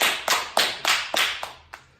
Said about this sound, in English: another round of applause for our peanut gallery